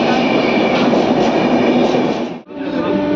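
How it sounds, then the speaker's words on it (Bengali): A train pulling into a railway station on the way from New Alipurduar toward Darjeeling, a loud, steady rumble and rattle of wheels and carriages close by that dips briefly near the end. "ওই ট্রেন আসছে"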